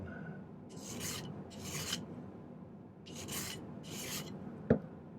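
Hand filing of a silver ring made for a geometric malachite setting: four slow rasping strokes in pairs, close and fairly quiet, ending in a single sharp tap, with no speech.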